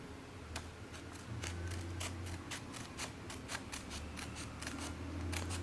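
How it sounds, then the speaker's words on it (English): Scissors snipping paper strips for an origami gift ribbon, a quick irregular series of close, crisp cuts with a faint hum beneath. "And now we're going to go ahead and cut it out. So cut it along this line first."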